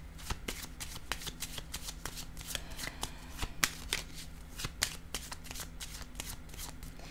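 Tarot cards being shuffled by hand, a steady run of crisp riffling flicks and soft snaps, close and fairly quiet, with no talking.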